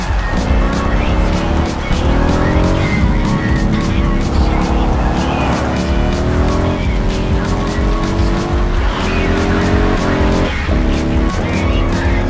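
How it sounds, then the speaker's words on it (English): A dual-exhaust motorcycle engine in the video game Cyberpunk 2077 revs loud and close, its pitch climbing and dropping through repeated gear changes, with tire squeal and voices talking over it. "I could definitely blindfolded tell that that's the Method 143-ish sounding motorcycle"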